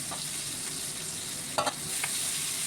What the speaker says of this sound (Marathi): परत ते ते त्याच तेलात परतून घ्यायचं मस्त त्याला तेल सुटेपर्यंत